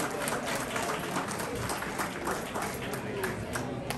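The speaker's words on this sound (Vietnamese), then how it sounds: "Xin một tràng pháo tay thật lớn nữa" An audience at a fundraising event applauds in a dense, continuous wash of clapping heard at moderate distance.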